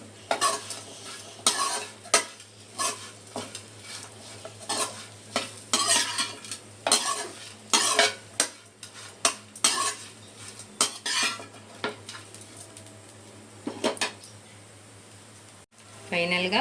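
Tindora (ivy gourd) pakoda deep frying in hot oil in a catering-style kitchen, with repeated stirring and scraping of a metal utensil against the pan over a constant sizzle, close and fairly loud.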